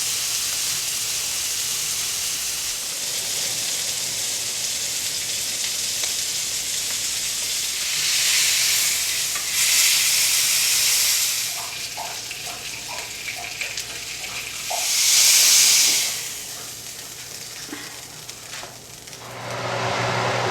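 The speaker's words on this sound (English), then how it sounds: "now we're going to take it and put it in this hot pan of oil, and we're going to sear it on all sides" Venison neck sears in a hot pan of oil, giving a steady sizzle and hiss with louder bursts of spitting fat and a few light clinks of the pan, with no talking.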